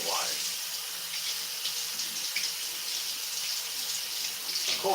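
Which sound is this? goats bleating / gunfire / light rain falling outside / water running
water running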